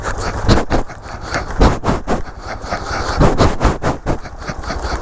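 A Yamaha XT660 motorcycle engine thrums loud and close as the bike rides down a run of outdoor stairs, its low steady drone broken by repeated jolts and thumps from each step.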